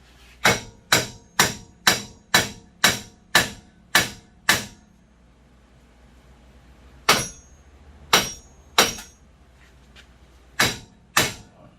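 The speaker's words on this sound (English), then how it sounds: "I think I can wail on it a little bit with a hammer and get it out." Loud metallic hammer blows on a stuck wheel bearing part of a 2007 GMC Yukon XL, in a steady rapid series, a pause, then more strikes in irregular pairs, ringing close by.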